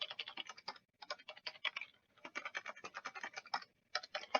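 A new eight-character password being typed on a computer keyboard, quick close bursts of crisp key clicks separated by brief pauses, with no voices.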